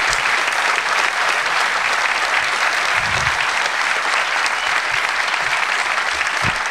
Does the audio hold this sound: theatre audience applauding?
yes